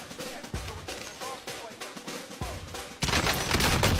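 Sniper fire in a shooting video game: several sharp, spaced shots with bolt and reload clatter between them, followed by a louder burst of mixed gunfire toward the end.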